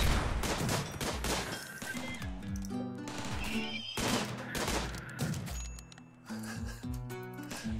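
Rapid bursts of gunfire from sniper units in the Rimworld video game, a dense fusillade of repeated shots layered over game music and battle effects, loud and continuous throughout.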